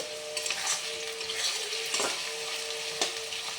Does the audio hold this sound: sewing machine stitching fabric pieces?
no